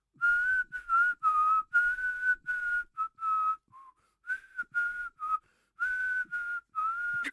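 Someone whistles a 1980s song: a clear, steady melody in short phrases broken by brief pauses, close and alone with no talking.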